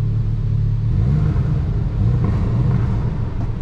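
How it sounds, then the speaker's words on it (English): A 2022 Hyundai i20 N with 204 hp, set to N mode, revs its exhaust with the doors open: a steady, loud, deep rumble that climbs in pitch on two short throttle blips before settling back to idle. "I will keep the doors open so that we can hear the exhaust even more."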